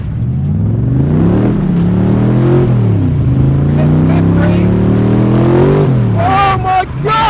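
A carburetted Cobra V8 car accelerates hard, its loud rough engine note climbing and falling in pitch through gear changes over several seconds, with voices briefly exclaiming near the end.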